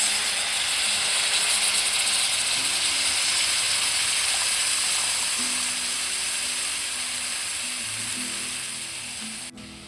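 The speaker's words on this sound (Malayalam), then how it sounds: "ഈ വെള്ളം ഇതിലേക്ക് ഒഴിക്കാം" Tamarind water poured into a hot pan for Kerala puli inji, a steady close sizzling hiss with bubbling that holds loud for most of the pour, then slowly eases toward the end, with no voices.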